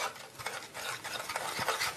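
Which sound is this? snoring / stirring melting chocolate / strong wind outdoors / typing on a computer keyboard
stirring melting chocolate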